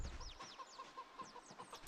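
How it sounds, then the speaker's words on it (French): Chickens in the video game Project Zomboid give quiet, repeated clucks in a steady rhythm, soft and low-level, with no talking over them. "J'ai pas envie de les voir mourir, mes petites poules, quand même."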